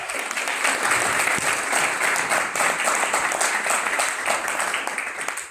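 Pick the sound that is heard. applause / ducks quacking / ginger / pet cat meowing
applause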